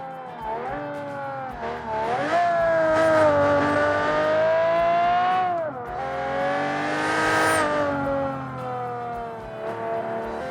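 A supercharged V12 engine fitted in a BMW Z3, with a damaged, melted cylinder wall, howls at full throttle on the Nordschleife in a racing game, rising steadily in pitch, dipping briefly at a shift, then climbing again, loud and alone.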